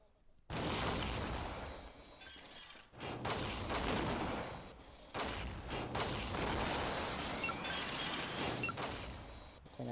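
Dense, sustained gunfire from a video game's territory-capture battle, loud volleys and bursts running almost continuously with brief lulls, heavy like a fusillade with booming impacts mixed in.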